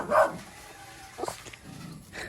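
A single dog barks once, fairly close, followed by quieter yips and rustling in the background.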